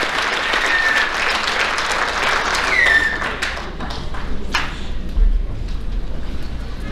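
The audience at a high school athletic banquet applauds the Lady Mule basketball team with loud, sustained clapping, dotted with a few whistles and cheers and a thud, that slowly thins out over several seconds.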